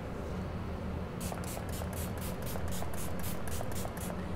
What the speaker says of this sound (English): I'm going back in with the Slay All Day by Gerard Cosmetics.